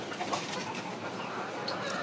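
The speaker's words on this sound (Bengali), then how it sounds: "আপনারা দেখতে পাচ্ছেন একটি ছোট রুমে এখানে প্রায় 30 থেকে 40 প্লাস মুরগি রয়েছে" Chickens clucking steadily in a small farm room holding thirty to forty hens, a dense, continuous flock murmur with occasional louder clucks and calls, close by and with no voices.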